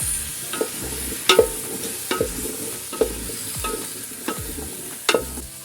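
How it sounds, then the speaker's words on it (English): Potatoes stirred in hot oil in a pot, a soft continuous sizzle punctuated by sharp scraping clinks of the spoon at irregular intervals, close and without any talk. "to at least heat them with some oil, and then I'm going to go in with my potatoes."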